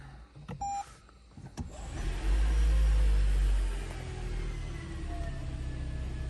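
A couple of clicks and a beep, then a 2019 Toyota Prius starts with a deep rumbling surge that settles into a steady idle hum.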